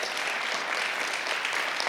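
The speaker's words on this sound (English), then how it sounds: "Let's give her a round of applause." Audience applause at a health expo and diabetes conference held in a high school, a dense, steady wash of clapping that fills the whole stretch at close range without pause.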